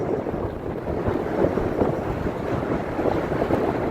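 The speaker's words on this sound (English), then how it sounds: "Now I'm walking up against the wind here." Steady wind gusting across a Cape Town beach, a continuous close roar buffeting the microphone with no pause over a few seconds.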